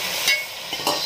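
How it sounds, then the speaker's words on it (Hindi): Boiled mutton pieces dropped into hot frying masala in a cooking pot, giving a steady close sizzle with brief stirring scrapes and a couple of louder bursts as the meat hits the oil. "देखिए इस तरह गोश्त डाल दी हूँ"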